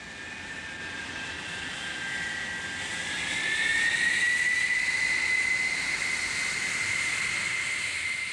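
French supersonic nuclear bomber jets in flight, a steady loud jet roar with a high whistling tone that rises and bends midway as the engine noise swells, no talking.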